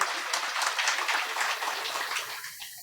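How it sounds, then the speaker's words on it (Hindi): A crowd claps in approval during a Shri Ram Katha gathering, a dense patter of many hands that swells and then tapers off over a few seconds, with no talk over it. "आप ताली बजाकर अनुमोदन प्रदान करें।"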